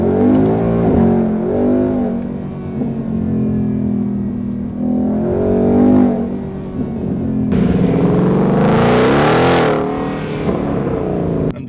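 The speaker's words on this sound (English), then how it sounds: "I'm driving the car in sports mode and then the exhaust is in normal mode." Ford Mustang GT V8 engine and exhaust while driving in sports mode with the exhaust in normal mode, a loud, close, continuous rumble that swells and falls with revving, climbing sharply near the end.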